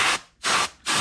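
Compressed air from a compressor set to 150 psi hisses in three loud, steady bursts as it is forced into an aerosol can of WD-40, with brief quiet gaps between the bursts.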